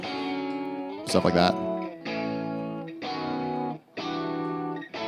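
Programmed MIDI bass notes with rhythm guitar chord hits in a short funk tune, sounding as distorted, effected stabs that repeat steadily, with a brief talking voice over one hit early on.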